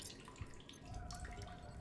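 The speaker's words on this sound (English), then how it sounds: "I wonder if I'm holding an empty bottle. Can I fill it? I think I'm filling it." Water trickling and dripping as a bottle is filled in the survival game The Solus Project, a faint, soft running splash with small drips, quiet and steady with no voices.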